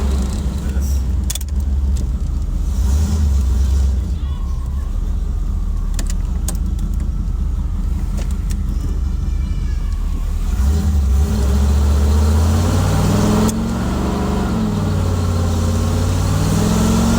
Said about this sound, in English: Got first. But then the RPMs just drop without me shifting.